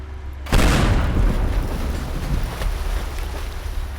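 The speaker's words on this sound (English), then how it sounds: "Yeah, just an explosion for good measure." Explosion in the video game Teardown: a sudden loud boom bursts in after half a second of quiet and settles into a sustained, roaring rumble with debris noise that stays strong to the end, with no voices.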